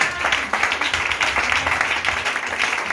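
A church congregation applauds and cheers together in a sustained burst of clapping, dense and continuous for several seconds, with voices mixed in.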